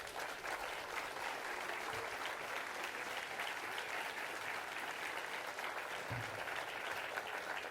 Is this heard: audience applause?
yes